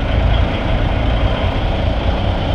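Diesel engine of an M923A1 military truck running just after starting, a loud, steady, low rumble close by with no voices.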